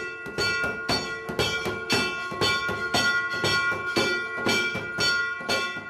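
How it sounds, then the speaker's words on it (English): Temple bells ringing during noon aarti at the Bhutnath temple, steady, rapid metallic clangs struck in an even rhythm over a ringing wash, loud and close, with drums alongside. "Bells and drums call out to God."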